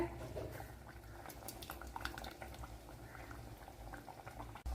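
Mackerel fish curry boils in a pot with a soft, steady bubbling, faint and close, with no talk over it.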